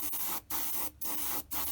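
An airbrush sprays thinned acrylic paint in three steady hissing bursts, each cut by a short pause, close and fairly loud with no voices.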